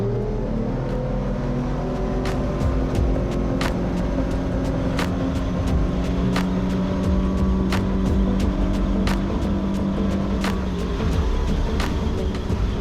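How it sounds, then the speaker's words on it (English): A powerful Yamaha F300 V6 outboard motor on an Extreme Boats 745 Game King roars steadily and close, its engine note climbing as the hull surges forward through water. "Do a quick little whole shot test just to show you guys the crazy power of this Yamaha V6 outboard."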